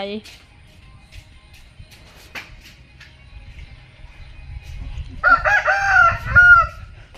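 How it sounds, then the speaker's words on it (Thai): A rooster crows loudly near the end, after a stretch of quiet background rustling and low murmuring voices. "เจ้าไก่ก็ขันไปสิ"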